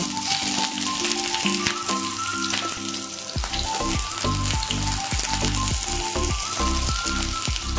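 Onions frying in hot oil in a kadai on a gas stove, with a steady close sizzle and crackle and rhythmic scraping and stirring clinks in the second half, no talk.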